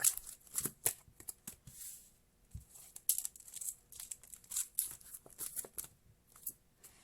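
Quick riffling and soft flicks of cards being shuffled, a run of short papery bursts up close with brief pauses between them.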